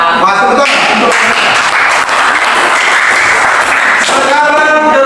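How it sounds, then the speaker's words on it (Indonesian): A classroom of vocational high school students claps loudly during a mathematics group presentation, a continuous burst of applause with voices audible at the start and end. "Pak, tepuk tangan."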